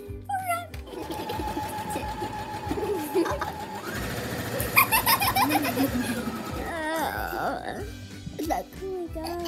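A sewing machine stitches fabric in short rapid bursts of whirring clatter, with pauses between runs, as nearby people talk and laugh throughout.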